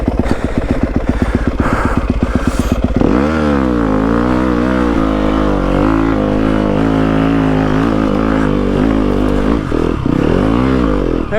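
A Yamaha WR250F dirt bike stuck in snow roars at close range. Rapid revving at first gives way to sustained high-rpm engine drone with rising and falling pitch as the rider tries to break free. The sound is loud and continuous, with no talking.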